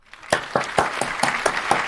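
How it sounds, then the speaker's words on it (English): Scattered hand claps from a group of people on a video call, a loose irregular round of applause with distinct separate claps at a steady pace, moderately close and not under talk. "can we have a quick unmute and a round of applause for David"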